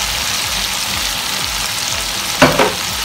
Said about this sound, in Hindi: अब हम इसके अंदर चिकन शामिल करेंगे और चिकन को उतनी देर पकाएंगे कि इसका कलर चेंज हो